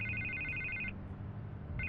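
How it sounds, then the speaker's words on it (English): A video game telephone rings with a bright electronic trill, sounding once, then pausing and starting again near the end over a low, steady background hum. "I can't get the phone to stop ringing."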